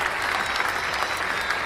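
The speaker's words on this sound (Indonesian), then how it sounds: "Yang di studio tepuk tangan dong, semuanya dong buat Lisa." A TV studio audience at an Indonesian entertainment show applauds, dense and fairly loud continuous clapping from many people filling the whole moment.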